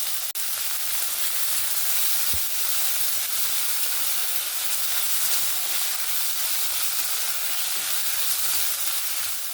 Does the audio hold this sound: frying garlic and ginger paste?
yes